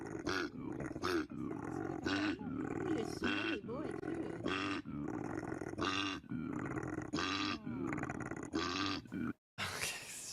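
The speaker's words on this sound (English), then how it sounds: "koalas grunt to attract females" A series of deep, rasping bellows from a male koala, repeated in snorting, grunting bursts with brief pauses, loud and close.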